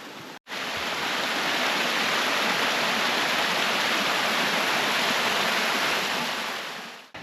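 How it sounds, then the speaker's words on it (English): A waterfall on the ascent of Blencathra by Sharp Edge gives a steady, loud, close rushing roar of falling water that barely changes, with no voices. "just approaching the waterfalls."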